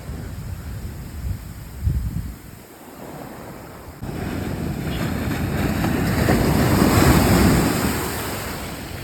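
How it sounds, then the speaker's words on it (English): Waves break and wash ashore on Edava beach in Varkala, Kerala. The surf is steady and close, rising into a louder, sustained roar partway through, with wind rumbling on the microphone. "Then we stopped at Edava beach."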